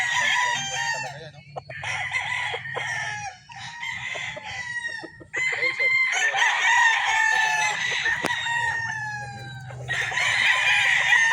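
A Kelso gamecock stag with a straight comb crows several times, with clucking fowl close by and other farm chickens around it. No one speaks.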